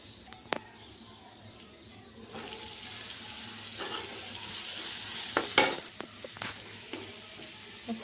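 Spring onion greens frying in hot oil with a chilli and turmeric tempering, giving a steady soft sizzle that grows louder partway through, with stirring clinks and scrapes close by.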